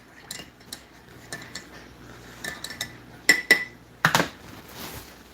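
A metal spoon clinks against a mug while stirring coffee with cream, with scattered light taps that build into a few louder, close clinks near the end.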